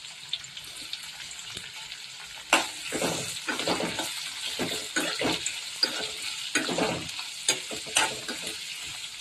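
Onion fries in a pan, with sizzling under repeated scraping strokes of a spoon as it is stirred, loud and close, each stir a sharp burst over the steady hiss.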